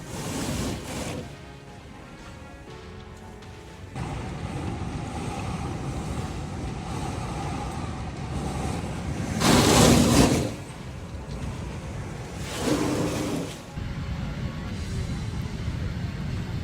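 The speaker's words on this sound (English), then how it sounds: "City Island appears submerged as a coastal storm hits the Bronx" Coastal storm at City Island in the Bronx, with a constant roar of wind and surging waves and two heavy gusts or crashing surges battering the microphone.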